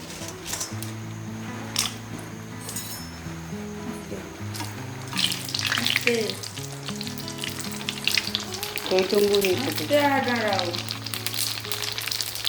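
Phuchka puris dropped into hot oil in a home kitchen, a bright crackling sizzle that swells as they puff, with stirring, under steady background hum and a voice speaking.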